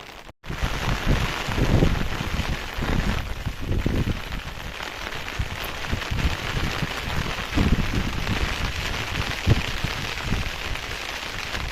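Steady rain falls at Mandangad fort on a misty day, a continuous close wash of patter with gusty wind underneath, holding at an even level for the whole stretch with no voices.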